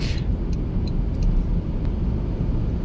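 A 2026 Toyota Camry SE accelerates hard, producing a steady, loud low engine and road roar heard from inside the cabin, with no change in tone across the short stretch.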